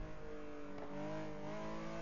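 Porsche 906 race car engine in the GT Legends racing game, a steady mid-pitched drone with a brief dip near the middle where the revs fall and climb again during a gear change, close and continuous with no voices.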